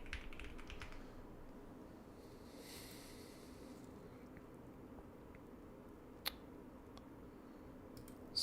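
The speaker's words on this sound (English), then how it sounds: "Keyboard sound is so tiny." Soft clicks from a computer keyboard being typed on while solving problems in a LeetCode weekly programming contest, faint and scattered over a steady room hiss, with a sharper single click near the end.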